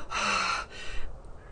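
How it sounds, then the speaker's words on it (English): One person takes an exaggerated deep breath, a close, airy inhale that swells and holds for about half a second, then trails into softer breathy rustle. "okay, let me go and breathe."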